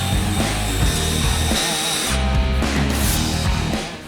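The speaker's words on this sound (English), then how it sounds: "putting a Scotch-Brite on a bit in the drill" A power drill spinning a Scotch-Brite pad on a bit to scrub and sand airplane parts in a hangar, giving a loud, close, continuous whirring grind that briefly dips and then resumes.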